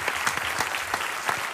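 A television studio audience claps steadily for a guest on a talk show, a brief, fairly even burst of applause at moderate distance with individual claps showing through.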